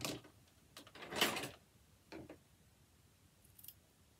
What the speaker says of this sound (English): Just trimming off those edges.